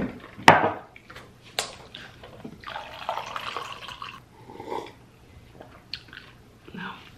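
Soy milk poured into a glass at a meal table, a short run of liquid splashing and trickling amid a few sharp clinks and handling knocks, fairly quiet and close.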